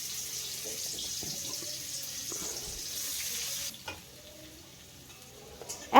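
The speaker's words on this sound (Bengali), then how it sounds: "তারপরে এখানে সেই কুমড়োগুলো দিয়ে দিয়েছি" Pumpkin pieces frying in well-heated mustard oil in a kadai, a steady close sizzle with occasional stirring scrapes for most of the stretch, quieter near the end, with a sharp clatter right at the close.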